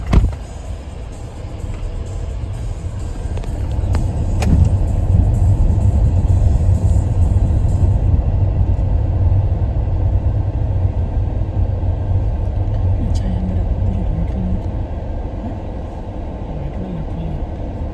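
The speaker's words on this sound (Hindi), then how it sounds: "चल अंदर तक गाड़ी में ही चलते हैं।" A car drives along a rural road in the Gogunda area, its engine and tyres making a loud, steady rumble from inside the cabin throughout, with a brief thump near the start.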